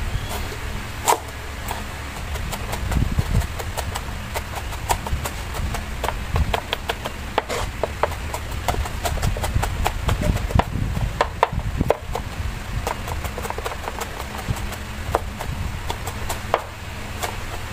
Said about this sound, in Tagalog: Kailangan iwa-hiwain ng pino yung itong bawang.